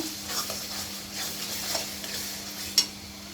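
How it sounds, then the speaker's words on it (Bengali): Spice paste for a potato chicken curry sautés in a pan, giving a soft, steady sizzle with light scraping strokes over a low hum, and one sharp clink near the end. "এবার ভালো করে মশলাটা আমি কষিয়ে নেব"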